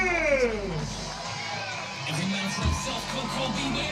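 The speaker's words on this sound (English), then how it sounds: "The crowd goes mad." A packed crowd at a boxing weigh-in for Lawrence Okolie versus Chris Billam-Smith roars and whoops loudly, the cheering swelling and holding throughout with shouts rising above the din.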